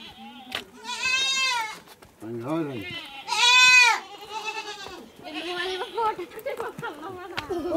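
Goats taken out to pasture with cows bleat loudly and repeatedly nearby, wavering cries in close succession with short pauses, and speech runs underneath.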